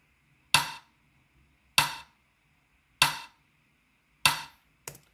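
Four evenly spaced clap samples processed with Logic EQ hit hard and crisp, each snap decaying quickly into near silence, followed by a shorter final clap.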